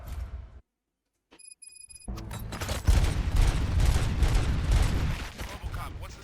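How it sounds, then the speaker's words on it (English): RoboCop: Rogue City game gunfire: after a brief silence and a few electronic beeps, a dense burst of rapid shots and crackling impacts erupts and continues loudly to the end. "Gunshots? What's going on?"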